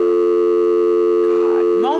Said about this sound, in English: Leave a short message after the tone and I'll call you back at my convenience.